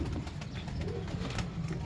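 Pigeons at a loft in Sarai Tareen coo softly at close range in a short, breathy murmur over a low background rumble, with no talking.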